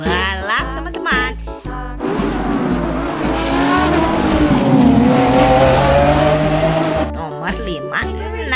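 A toy race car's engine effect revs up and holds in a loud, rising and falling roar for several seconds, with bursts of excited talk before and after.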